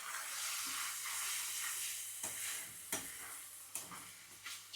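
Chicken curry being stirred in a hot pan: a steady frying hiss with a few sharp spoon scrapes and clacks toward the end, close and fairly quiet, no voices.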